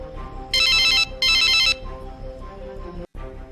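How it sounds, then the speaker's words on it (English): A phone's electronic ringtone chirps in two loud, bright bursts close by, followed by a short pause and quieter background sound. "her phone suddenly rang"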